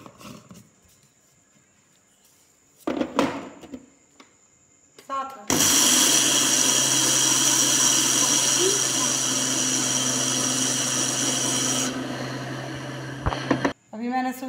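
A kitchen mixer grinder whirs loudly and steadily for several seconds as it grinds sugar into powder, preceded and followed by clattering of the jar and brief handling noises, with a voice at the start.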